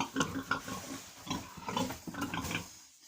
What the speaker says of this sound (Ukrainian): зайшла до свиней